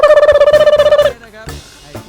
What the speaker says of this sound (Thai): เมื่อกี้โทรศัพท์เด้งมาว่ามีเงินเข้าสิบล้านนะครับ